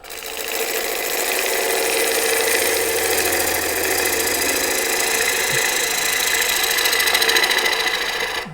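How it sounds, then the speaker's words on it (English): Half-inch swept back bowl gouge cutting mulberry on a lathe, a steady continuous hiss-and-whir with rhythmic rough chatter under it, close and fairly loud throughout with no talking. "I'm going to use my ½ inch swept back bowl gouge"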